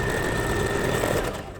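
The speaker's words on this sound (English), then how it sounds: "it's really hard to do this with the home sewing machine" A home sewing machine stitches a seam in cotton gauze for a face mask, giving a steady, close whirring hum that runs unbroken and tails off at the very end.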